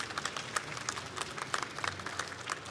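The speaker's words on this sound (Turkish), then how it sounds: "Alkışlarınızı rica ediyoruz" A crowd applauds after the signing of a cooperation protocol at a formal ceremony, steady dense clapping heard from a moderate distance without a break.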